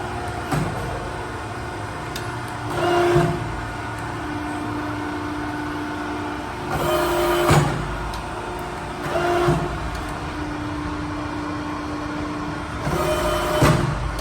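Cincinnati 8-foot, 90-ton press brake with its ram cycling up and down, a steady machine hum broken by four swelling mechanical whirs with clunks, close and loud, no talk.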